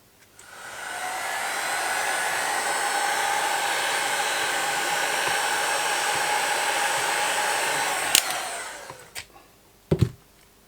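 A heat gun blows a steady loud whoosh for about eight seconds while shrinking heat shrink tubing over a cable during a repair on a Cobra 21LTD CB radio, then cuts off, followed by a couple of brief clicks and knocks.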